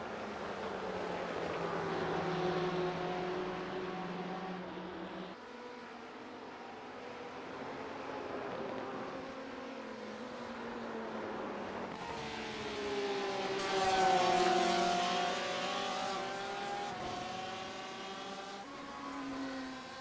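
Porsche GT race cars battling at Spa in a sim racing endurance championship, their engines droning with rising and falling pitch as gears change, one car sweeping past loudly partway through, with no talk.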